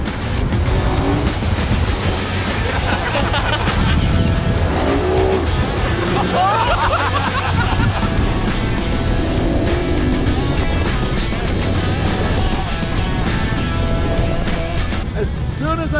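A 250 hp outboard motor running hard on a 12 ft boat, loud continuous close engine roar with wind and water rush throughout, voices talking over it.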